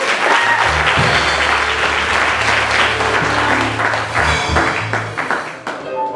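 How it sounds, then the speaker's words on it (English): A church congregation claps their hands during worship, a loud, dense stretch of clapping with a low droning tone and some tapping beneath it, tapering toward the end. "clap your hands for the Lord"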